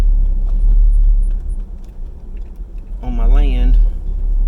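A vehicle rumbles steadily up close while driving out onto rural land being cleared for a shop build, the engine drone continuous beneath someone talking.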